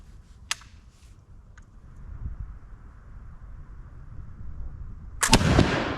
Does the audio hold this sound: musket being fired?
yes